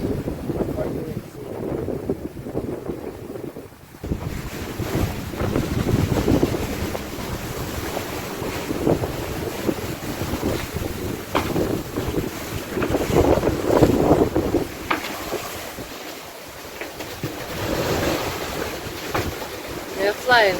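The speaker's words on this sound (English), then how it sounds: "Look at those waves." Ocean waves wash and slosh around a sailboat crossing the Pacific at night, with heavy wind buffeting the microphone and surging swells rising and falling close by, no speech over the rushing water.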